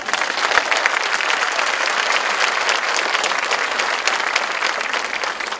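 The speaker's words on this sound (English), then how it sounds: "I think we should give us all a round of applause" Graduation audience applauding, a dense, steady wash of clapping from a large crowd that holds at an even level without a break.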